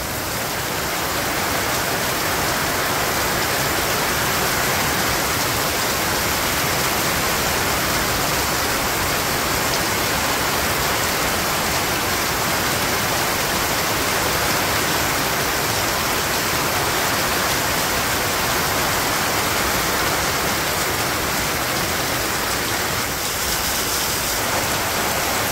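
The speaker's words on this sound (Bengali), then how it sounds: "বাবারে বৃষ্টি, এক হাত জল পারবো এই বৃষ্টিতে" Heavy monsoon rain pouring down on a Bangladeshi village, a loud dense unbroken roar of rainfall on surfaces, steady and close for the whole stretch with no voices.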